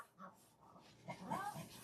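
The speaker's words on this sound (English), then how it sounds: "They're all still barking" Dogs bark faintly and whimper at a distance, with short whiny yips and low barks coming and going in a quiet room.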